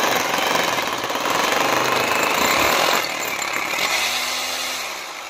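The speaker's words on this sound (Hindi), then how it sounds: "तो हम यहाँ पर छेद कर रहे हैं।" A hammer drill bores holes into a wall to mount a stand for an air conditioner outdoor unit, producing a loud, harsh, continuous rattling roar close by that eases off slightly toward the end, with no talking.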